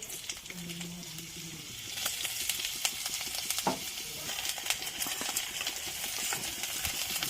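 Chopped ginger hits a spoonful of hot ghee in a pan of moong dal and pumpkin leaves, and a steady sizzle rises with stirring scrapes and occasional clinks, while faint low voice-like sounds linger briefly early on.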